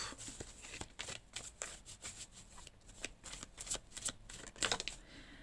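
A tarot card deck is shuffled and cut, producing a quiet, close series of crisp, irregular riffling flicks and slaps with no talking.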